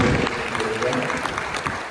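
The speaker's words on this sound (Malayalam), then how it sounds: "നല്ലൊരു കൈയടി" Sustained applause from a church parish congregation, a dense patter of clapping that holds steady and fades slightly toward the end.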